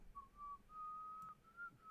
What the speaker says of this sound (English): I just heard you whistle, dog.